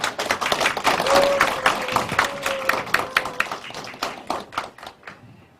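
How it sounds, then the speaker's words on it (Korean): A modest audience at an eco-friendly agriculture policy forum claps to welcome a speaker, scattered distinct claps close by that thin out and stop. "큰 박수로 모시겠습니다."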